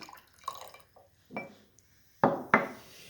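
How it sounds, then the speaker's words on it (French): Water is poured into a glass holding an effervescent medicine tablet: a few quiet clinks and drips, then two short, sharp splashes, close and alone, with no talking. "Il faut que je mette un cachet de médicaments et que j'y ajoute de l'eau."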